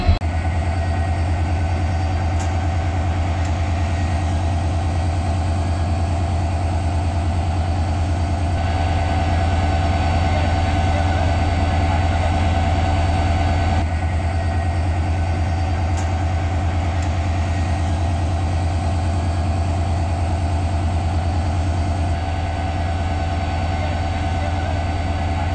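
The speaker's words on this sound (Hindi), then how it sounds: "DLW का 1000वां हाई हॉर्स पावर लोकोमोटिव" A DLW-built WDP-4D diesel locomotive, number 40122 of TKD shed, the works' 1000th high-horsepower loco, idles with a steady, loud, unbroken engine drone that holds for the whole stretch, with no voices.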